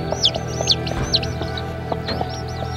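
A mother hen clucks softly in low, repeated notes while her small chicks peep in high, rising chirps, both close by and overlapping throughout.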